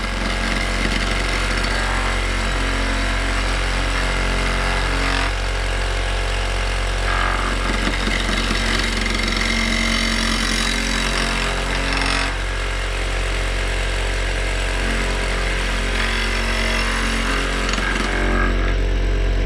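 Multi-axis machine taking light metal cuts at 2700 RPM: a loud, steady motor drone with a constant low hum, overlaid by intermittent chattering, rattling bursts as the tool bites, heard up close for about twenty seconds.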